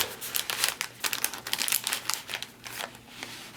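A foil MRE flameless heater pouch slides into its crinkly paper envelope, giving a close, continuous rustle and crackle with sharp crinkling bursts throughout.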